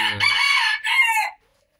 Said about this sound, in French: Excusez-moi pour le coq, il est juste à côté.